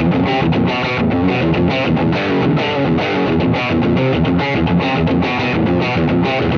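A heavily distorted electric guitar through a high-gain distortion pedal plays steady, rhythmic palm-muted chugs with a scooped-mid, metal-style tone, loud and continuous.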